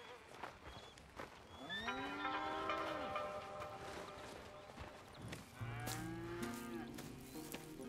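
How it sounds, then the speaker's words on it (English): Cattle on a ranch in Red Dead Redemption 2 moo in long, drawn-out calls, several overlapping at moderate distance over a soft outdoor background. "Here's the cows."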